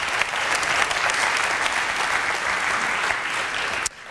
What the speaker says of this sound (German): Einen herzlichen Applaus für Stefan Schulz.